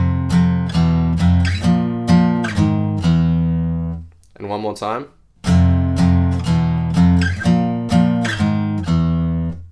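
An electric guitar plays a riff as loud, close, ringing chords in a choppy rhythm, with a brief spoken phrase in a short break before the riff repeats.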